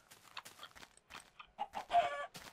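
Minecraft chickens cluck in a string of short, choppy calls that build toward a louder squawk near the end, close and clear with no talk over them.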